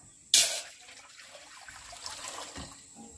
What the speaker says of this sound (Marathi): भगर शिजवाय एक तांबे पाणी वरते पातेले